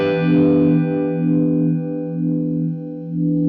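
Guitar chord ringing through a vintage-style vibe pedal, with a slow, regular pulsing swirl of about three cycles on a sustained, warm, chubby tone, close and alone.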